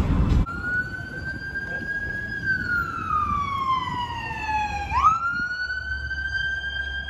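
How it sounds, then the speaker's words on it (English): An emergency vehicle siren wails steadily in the street, its tone sweeping slowly down and then jumping back up, loud and close against traffic rumble. "Siren, siren."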